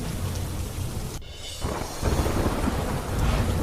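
Heavy downpour hisses steadily in Khambhalia while a rumble of thunder rolls through the middle, the rain noise broad and constant from start to finish.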